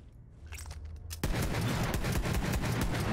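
A gun fires in the video game Borderlands 3, rapid automatic fire bursting in loud and continuous after a quieter lead-in.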